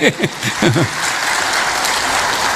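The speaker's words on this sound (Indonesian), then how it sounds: "Tepuk tangan buat Kang Deddy Mulyadi." Audience applause at a public gathering in West Java, a dense wash of clapping sustained at steady volume, with a brief voice or tonal sound at the start before the crowd noise takes over.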